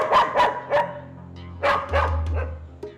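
A stray mongrel dog from Brazil barks loudly and close by, likely guarding its kennel. Several sharp barks come in two quick bursts with a short pause between them.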